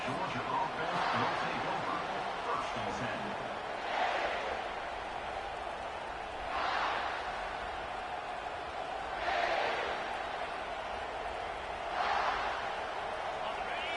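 Loud stadium crowd roar fills the background of an NCAA 25 college football video game, a continuous dense din that swells in several surges over the span with no voices standing out.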